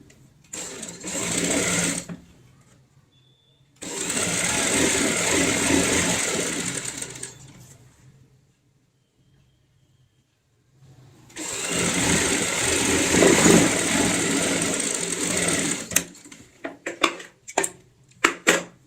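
A sewing machine stitches strips of cushion cover fabric at a half-inch seam margin in bursts: a short run, a longer steady whir, a quiet pause, another long run, then a few quick stuttering stitches.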